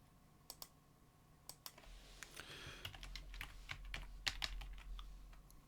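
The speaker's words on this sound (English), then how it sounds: "I will go over and type Facebook" Someone types on a computer keyboard: scattered, quiet key clicks in uneven bursts, close by, with a low background hum and no talking.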